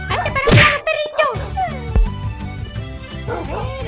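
A dog in the Minecraft video game barks a few times in quick succession, fairly close and loud, amid game sound effects and thumps while a person talks over it.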